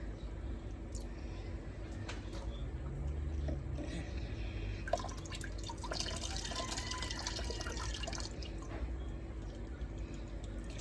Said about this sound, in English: just gonna pour some water